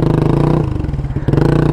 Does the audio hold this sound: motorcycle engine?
yes